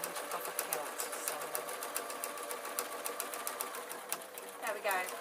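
Sewing machine running a short burst of reverse stitches, a quick rhythmic needle chatter throughout, fairly quiet, with a brief pause and restart near the end.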